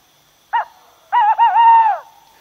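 Tawny owl hooting, a deep, low, characteristic call: one short note followed after a pause by a longer wavering hoot, close and clear against a quiet night background.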